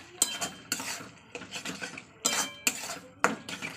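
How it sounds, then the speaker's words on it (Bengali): Potato and pointed gourd sautéed with ground spices and garam masala in a pan, heard as repeated sharp scrapes and clinks of a metal spatula against the pan at an uneven stirring rhythm, close and fairly quiet. "আলু পটল সব ভালোভাবে কষে নেব দেখতে পাচ্ছেন ভালো করে আমি কষে নিচ্ছি"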